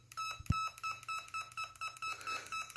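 A littleBits synth kit emits a steady run of short, bright electronic beeps in a regular pulsing rhythm, like an alarm clock, close and clear with no talking.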